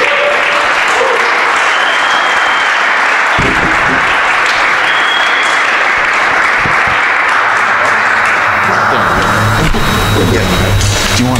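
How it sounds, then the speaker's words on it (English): Sustained audience applause fills the room as a speaker named Ken Scheer is welcomed to the stage, steady and dense clapping running throughout with a little crowd noise mixed in. "Please give a huge round of applause for Ken Scheer."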